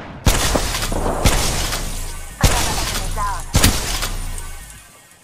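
Loud gunshot blasts in the Apex Legends battle royale game, four sharp reports spaced about a second apart, each with a long ringing decay over a steady background of game sound.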